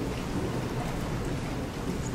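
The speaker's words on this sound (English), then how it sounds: "it's very stormy out here, as you can hear" Steady rain pours during a thunderstorm with a low continuous rumble of thunder beneath, dense and even throughout, with no voice.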